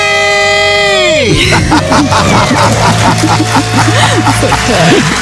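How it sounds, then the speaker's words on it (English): A studio crowd on a radio call-in money show lets out a loud, sustained debt-free scream and cheering after a countdown. A dense wall of shouting voices and whoops continues throughout, close and loud. "Let's hear a debt-free scream."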